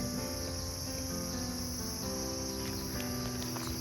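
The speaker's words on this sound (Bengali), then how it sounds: "তারপর আরও অনেক রকমের পোকার আওয়াজ হচ্ছিল, সেগুলোও শুনতে মিষ্টি লাগছিল" Insects chirp in a constant dense drone around the grounds of Rohini temple, with loud layered trills filling the whole stretch without a break.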